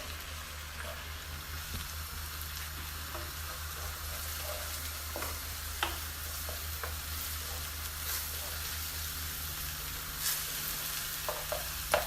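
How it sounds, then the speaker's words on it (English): Onions sauté in shrimp-infused coconut oil for shrimp fried rice, giving a steady, moderate sizzle that runs throughout with occasional small pops and stirring clicks. "let us go in with our onions. Okay, and you just want to saute this for about, I'd say about 3 minutes."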